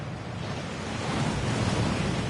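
Steady rushing waterfall at Gringotts in the Hogwarts Legacy video game, a dense, constant roar of falling water, loud and close with no pauses.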